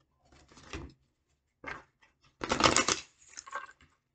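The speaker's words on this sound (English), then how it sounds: "Look what we had on the bottom of the deck before I shuffle." A deck of playing cards being shuffled by hand, several close riffling and bridging bursts separated by short pauses, fairly quiet with no talking.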